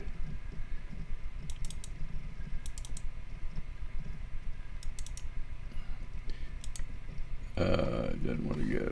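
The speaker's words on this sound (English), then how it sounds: "so we'll double click there" Sharp computer mouse double clicks on a laptop during astrophotography processing of Saturn and Jupiter, several paired clicks spaced apart over a steady low hum, with a brief burst of handling noise near the end.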